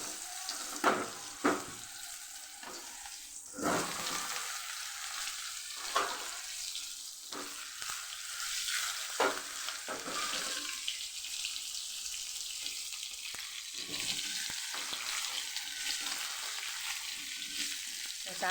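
Spiny gourd (kantola) pieces frying in hot oil with turmeric and asafoetida in a home kitchen, a steady sizzle broken by several sharp clatters of stirring or utensils against the pan.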